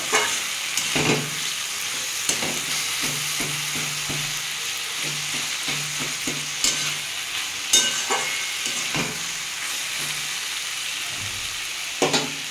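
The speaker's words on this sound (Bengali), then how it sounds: "দেখুন সবজিটা কতটা ভাজা হয়ে গেছে।" Vegetables fry in a pan for a fish-head and greens home recipe, with a steady sizzle under repeated scraping and knocking strokes of a spatula stirring them; no voices.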